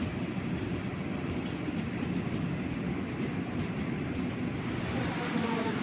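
A passenger train rumbles into a station in Alappuzha-area heavy monsoon rain, a steady low rolling roar of wheels blended with dense rainfall hiss, continuous and fairly close, with faint voices beneath.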